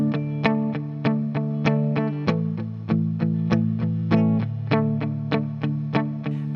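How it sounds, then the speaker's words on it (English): Electric guitar playing palm-muted eighth-note strums on the verse of a song, a steady chugging pulse of dampened chords that shift pitch partway through, moderately loud and alone. "I'm also using palm muting here with my palm"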